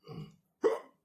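Two short, close hiccups in quick succession right after eating very hot chili sauce, sharp and isolated with silence between them and no talking.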